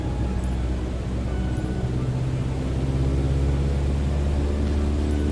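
A light aircraft engine in Microsoft Flight Simulator 2022, throttled up to 2400 RPM, holds a steady, loud, buzzing drone the whole time, without any voices.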